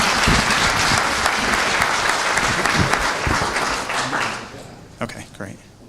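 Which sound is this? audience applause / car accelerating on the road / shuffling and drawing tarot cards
audience applause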